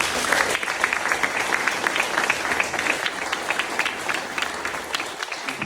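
A crowd at a political campaign team's closing ceremony applauds steadily, many hands clapping in a dense, continuous patter that stays fairly loud throughout.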